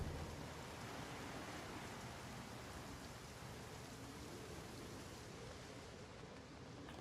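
Steady, even rain falls in the video game Project Zomboid, a constant dense hiss of drops with no other sounds and no talk, quiet throughout.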